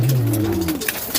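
Pigeons coo close by, a short low rolling call that rises and falls, loud and clear over quiet background noise.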